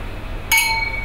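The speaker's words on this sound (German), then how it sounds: "Man tut nicht Gläser zusammenstoßen." Two glasses clink together once in a toast, a bright ringing chink that lingers briefly over a low room murmur.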